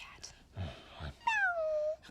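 A person imitates a cat's meow up close, a soft whispery breath followed by a clear, drawn-out falling meow, with faint low murmurs around it.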